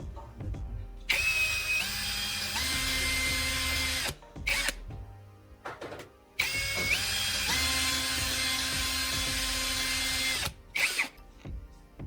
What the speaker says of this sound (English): Then drill the 3 outer holes according to your markings.